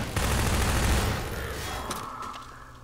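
Enemies blasting shotguns in Half-Life 2, a loud dense burst of overlapping gunfire up front that fades into a quieter, echoing tail of scattered shots.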